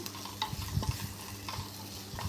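Onions, green chillies and curry leaves stirred in a pan while frying on high flame, a soft continuous sizzle with a few gentle spoon scrapes and taps.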